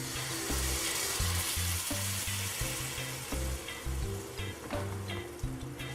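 Curry for Trinidad curry goat sizzling and frying steadily in a pot as the liquid cooks down, with occasional stirring. The crackle is loud and close, with no voices.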